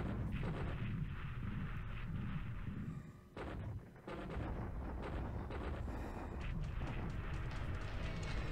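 Dense, rumbling explosions and booming impacts of bombs striking ships in a World War II naval strategy game set on December 7th, 1941, with Japanese carriers involved; loud and continuous, with a short lull midway and no talk.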